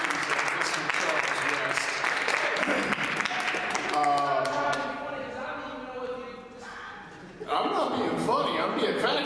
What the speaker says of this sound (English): let's give a round of applause for the speakers of Mr. Charles West.